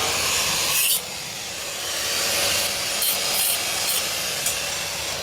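Metal of an expired gas cylinder being cut, a continuous harsh grinding rasp with a few brief bright bursts and short pauses, close and steady with no talking.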